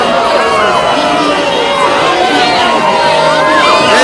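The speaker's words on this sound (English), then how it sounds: "The president made stops to acknowledge cheering crowds as his convoy moved from one town to another." Crowds cheering along the Ghanaian president's convoy route, a steady roar of many voices with whoops and shouts blending into one loud, continuous wash.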